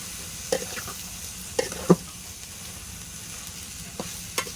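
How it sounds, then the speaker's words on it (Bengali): Onion, garlic and potatoes fry with a soft, steady sizzle in a pan while a spatula stirs them gently, giving a few distinct scrapes and knocks against the pan, close and without talk. "সবটা দিয়ে সুন্দরভাবে একটু হালকা একটু নেড়ে নেব।"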